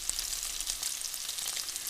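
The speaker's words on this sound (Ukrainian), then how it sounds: "сало е, пришкварюється, воно рум'яниться." Pork fat (salo) sizzles and crackles as it renders and browns in a hot pan, a dense, steady hiss with scattered pops, close and continuous.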